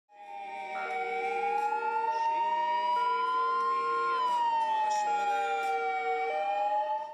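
An ambulance siren wails steadily, rising and falling in a slow sweep, loud and close for the whole stretch with no talk over it.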